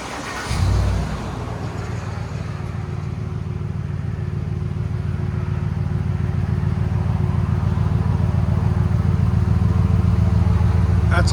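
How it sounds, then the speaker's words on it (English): A 2008 Ford Explorer Limited 4x4 with a 4.6L V8 and Gibson cat-back exhaust starts up and settles into a steady, deep idle, a low continuous rumble close by that holds evenly to the end. "Ford Explorer Limited V8 4x4 with a Gibson exhaust."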